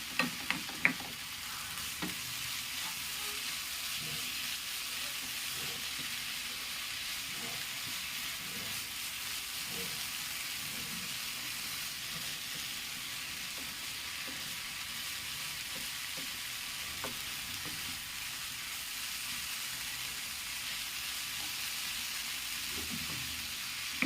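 A steady, moderate sizzle of jackfruit seeds and drumstick leaves frying in a pan for thoran carries on throughout, with occasional soft stirring scrapes and taps.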